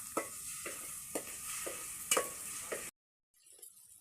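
Ginger-garlic paste fries in hot oil in a pan for chicken curry: a soft sizzle under a spatula knocking and scraping in regular taps, quiet and close, then a sudden cut to near silence before a faint hiss returns.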